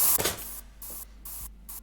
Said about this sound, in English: That's just the deodorant.